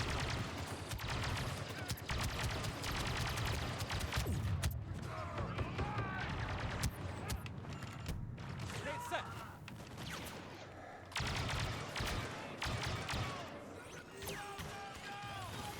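Game gunfire from Star Wars Battlefront 2, with bursts of blaster shots and impacts running throughout amid busy battle noise, fairly loud and dense, with brief quieter gaps.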